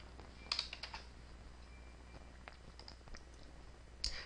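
Quiet computer keyboard typing, a few short clusters of soft clicking keystrokes at low level over steady room hum, with scattered single taps between.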